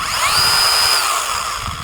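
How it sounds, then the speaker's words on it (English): A YT Avhrit cordless battery-powered mini chainsaw starts up close by. Its electric motor whines up to a high, steady pitch, holds briefly, then runs on at full speed, loud and alone. "okay, and the chainsaw just starts."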